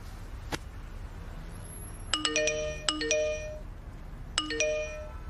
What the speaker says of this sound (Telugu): ఏంటి ఇన్ని మెసేజ్లు వస్తున్నాయి